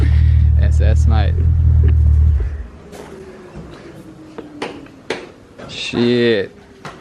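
Holden VE Commodore SS V8 with a loud, deep rumble at the start, then a quieter idle drone as voices speak over it.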